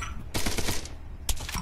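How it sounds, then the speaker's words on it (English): Rapid bursts of automatic gunfire rattle in a video game military simulation, a few short volleys in quick succession, fairly close and sharp. "something is shooting at me"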